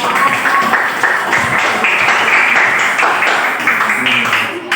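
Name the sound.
applause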